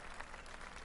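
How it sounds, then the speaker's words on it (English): Crowd applause and cheering burst out after a made putt in the golf video game PGA TOUR 2K21, a brief dense wash of clapping at steady level. "The crowd has gone wild."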